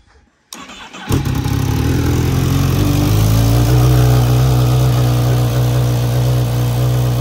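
A Honda Fireblade motorcycle with a silencer fitted starts up: a short crank after a moment of quiet, then the engine catches and settles into a loud, steady idle right up close, with the pitch rising slightly as it revs.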